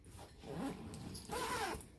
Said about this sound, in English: So then that just zips up like so.